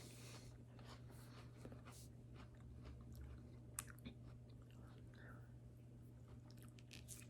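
Up-close crunchy chewing of a raw sugar snap pea, with soft, irregular bites and crackles at low volume over a quiet background.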